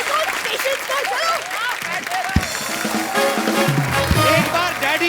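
A studio audience at a television comedy show breaks into loud, continuous applause while voices keep talking and exclaiming over the clapping.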